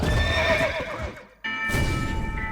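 A horse in the video game Red Dead Redemption gives a loud, close whinny, with clip-clop hoofbeats around it, then a short gap of near silence before the sounds return.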